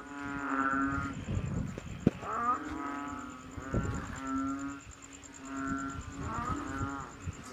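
Deep, drawn-out croaking calls repeat in slow overlapping bouts, loud and close, with a moaning, almost mooing tone and a sharp click or two between.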